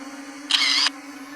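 A RUKO U11Mini 4K drone's camera makes a single short electronic shutter sound, a crisp click-whir lasting under half a second over a steady background hum, with no talk.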